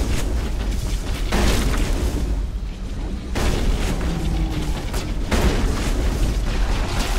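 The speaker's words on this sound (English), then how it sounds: "I like to use my shotgun against creepers." Shotgun blasts in the Mass Effect video game, fired at creepers: loud booming shots that come at intervals, each followed by a short decaying roar.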